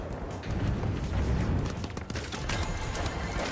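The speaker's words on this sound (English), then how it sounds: "Turret's doing damage." An automated turret fires in a video game amid dense, continuous battle noise, rapid shots and crackling impacts layered over booming rumble, loud and steady throughout with sharp bursts near the end.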